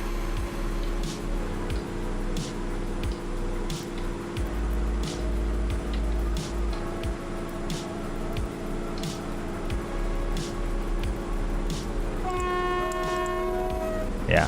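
In the MaSzyna train simulator game, a locomotive horn sounds a sustained signal near the end, over a steady rumble of the rail vehicle with faint periodic clicks, and no talking.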